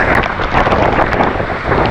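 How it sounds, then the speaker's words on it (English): Storm wind gusting at about 120 km/h through a campsite at night during a New Zealand rafting trip, a loud continuous roar buffeting the microphone with no speech. "The winds are gusting 120 kilometers per hour."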